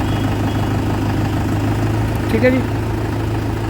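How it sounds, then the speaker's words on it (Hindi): A Mahindra 575 DI XP Plus tractor engine idles with a steady, even low hum throughout, and a voice speaks briefly over it. "आपके सामने ट्रैक्टर खड़ा है महिंद्रा 575 DI XP प्लस"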